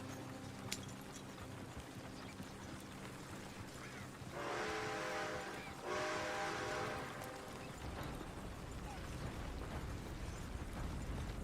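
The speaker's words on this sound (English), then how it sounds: "There's a train." A train sounds two long whistle blasts back to back, rising over a low rumbling background before fading into continued mechanical noise.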